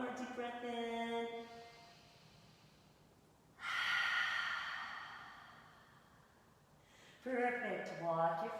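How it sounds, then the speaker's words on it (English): Deep yoga breathing: a long, soft breath in, then an audible, breathy exhale through the mouth, with a woman's calm instructions before and after. "Let the breath out through your mouth."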